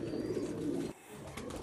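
Soft cooing from mixed flying-breed pigeons at a breeder's loft in Faisalabad, Pakistan, a low throaty warble that breaks off, followed by faint rustling in a quiet space.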